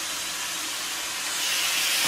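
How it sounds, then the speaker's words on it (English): A steam cleaner blasts steam across a mattress surface, a loud continuous close hiss that grows slightly stronger toward the end, with no talking. "Continue to steam the entire mattress surface."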